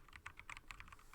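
Quick typing on a computer keyboard, a short burst of light key clicks in an even patter, close and faint, with no voices.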